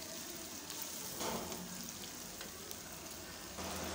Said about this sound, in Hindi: मिक्स करेंगे और अच्छे तरीके से टमाटरों को फ्राई करेंगे, गलने तक अच्छे तरीके से गाल लेंगे